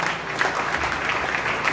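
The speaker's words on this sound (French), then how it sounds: "On va applaudir." Church congregation at a Sunday worship service applauds, a dense, steady wash of clapping from a crowd, fairly loud and sustained with no clear speech.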